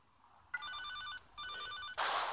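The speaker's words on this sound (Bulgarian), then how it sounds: "И телефонът ми звънна" A mobile phone rings in GTA Liberty City Stories: two bursts of a bright electronic ring tone separated by a short pause, followed by a harsher buzzing burst, close and clear with no talking.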